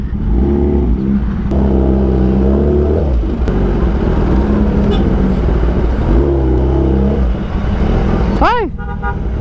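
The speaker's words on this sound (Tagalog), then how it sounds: "Grabe traffic." Heavy road traffic in Dagupan with a typhoon on the way: close engines rumble and rev with repeated accelerating sweeps, and a bright horn toot near the end, under a constant roadside roar.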